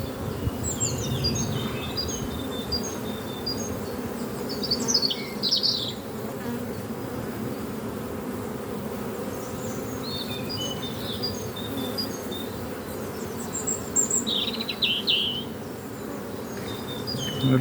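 Honey bees hum densely around an opened beehive during an inspection of a colony with swarming fever, a steady close buzzing drone with occasional higher insect whines and faint chirps, no talking.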